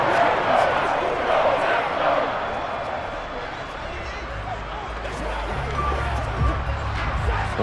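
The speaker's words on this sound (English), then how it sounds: "The crowd getting into it as we come up on a big 3rd down" A stadium crowd in a Madden 23 Rams vs Packers football game rises in noise before a big third down, a dense, steady roar of cheering and chanting with low rumbling underneath.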